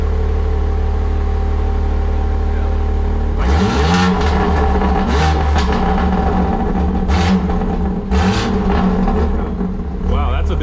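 A stage 2 BMW G80 M3 Competition xDrive with its exhaust valves closed idles with a low steady drone, then is revved several times in rising, falling bursts, close and loud, and a voice is heard speaking.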